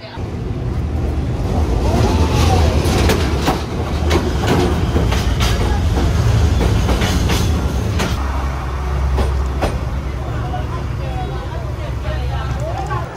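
A train rolls past close by along a narrow cafe-lined street in Vietnam. Steady rumbling is marked by repeated rhythmic clacks of wheels over rail joints, while people talk in the background the whole time.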